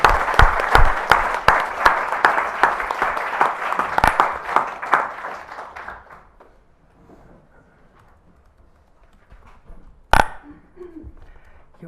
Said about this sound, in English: a round of applause for Etienne Balibar